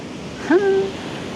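Stormy sea waves roll in at Arcadia beach in Odesa, whipping up heavy foam: a steady, broad surf roar fills the whole stretch, with a brief rising tonal cry cutting through midway.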